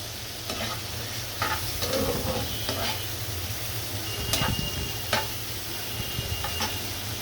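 Onion and shrimp frying in a pan, a steady close sizzle with occasional stirring scrapes and clinks running throughout, no voices.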